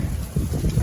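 Strong, dry, cold wind blowing outdoors in Italy, a loud low buffeting rush against the microphone through the whole brief moment, with no voices.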